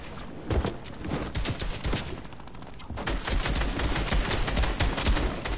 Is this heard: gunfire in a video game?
yes